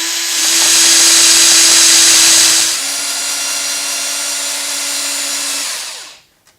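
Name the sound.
cordless drill sanding a rifle stock barrel channel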